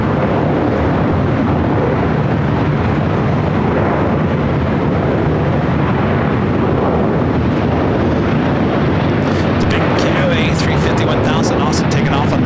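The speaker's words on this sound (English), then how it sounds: "The Air France 777-300ER up next for takeoff." An Air France Boeing 777-300ER takes off at LAX, a loud, continuous broadband jet roar heavily buffeted by wind noise on the microphone, holding steady throughout.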